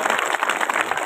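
Applause welcomes a guest at a government middle school event in a village: a brief burst of many hands clapping in a dense, steady patter from a nearby crowd.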